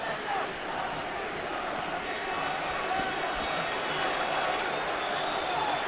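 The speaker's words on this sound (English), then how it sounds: "Crowd getting into the fight." A lively boxing crowd roars steadily through the 2001 Christy Martin vs Kathy Collins women's bout, a dense continuous rumble of cheering with a commentator talking over it.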